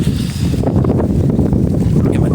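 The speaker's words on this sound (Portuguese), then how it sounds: "Mas tá ventando demais hoje." Strong wind blows across the Surubi River at a fishing campsite in rainy weather. Loud, gusty buffeting rumbles close to the microphone without a break.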